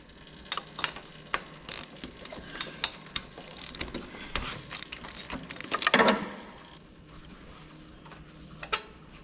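Bursts of quick ratcheting clicks from a 5/8 socket wrench loosening spark plugs on a zero-turn mower, close and crisp, in several short runs with pauses between and a louder clatter near the middle.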